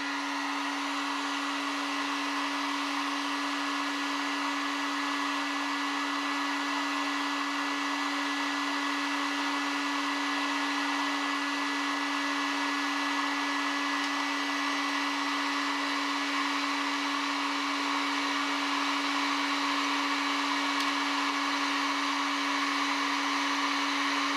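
A Harbor Freight Warrior heat gun running while melting solder, giving a steady, unbroken blower whine with a strong constant tone that holds at an even level the whole time.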